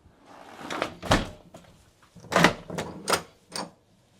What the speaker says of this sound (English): Let's just see if we could lock the door by closing it.